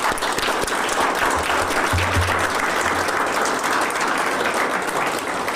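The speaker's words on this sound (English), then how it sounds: "Please join me in giving them a big round of applause." A conference audience at the 6th International Ayurveda Congress in Roermond, the Netherlands, applauding with a loud, sustained, even roar of many hands clapping throughout.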